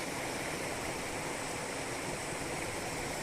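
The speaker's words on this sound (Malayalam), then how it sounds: "ഈ വെള്ളത്തിൻ്റെ പതഞ്ഞുള്ള ചാട്ടം കാണുമ്പോൾ അവർക്ക് അതൊരു സന്തോഷം തന്നെയാണ്" A foaming stream tumbles past the front wall of a house, a dense, constant rushing roar of water that holds steady and fills the whole short stretch with no voices.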